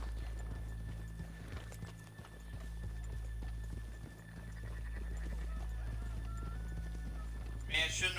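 Horses' hooves clip-clop steadily at close range as riders pass by in Red Dead Redemption 2, with occasional neighs and game ambience beneath.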